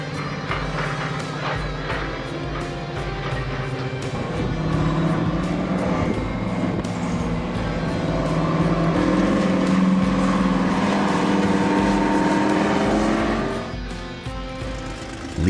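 A Napier Deltic, a 36-piston triangular engine, roars at high revs on a test stand: a loud, dense, continuous mechanical drone that swells slightly midway, then eases near the end, with no talking.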